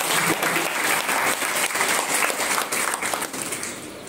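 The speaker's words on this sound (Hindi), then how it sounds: "ताली, हाँ ताली हो जाएगी" An audience claps together after a stage performance of costumed characters, a loud, close, dense burst of applause that runs steadily before easing slightly at the end.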